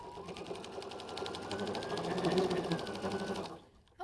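A sewing machine top stitches around the edge of a kitchen towel, its needle running in a steady fast rhythm that builds slightly before stopping near the end, close and alone with no talk.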